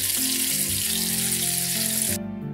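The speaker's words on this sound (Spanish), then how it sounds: "lo frío por los dos lados" Floured anchovies fry in hot oil in a pan, a steady, close crackling sizzle that holds at even loudness throughout, with faint tonal kitchen sounds beneath and a slight drop just before the end.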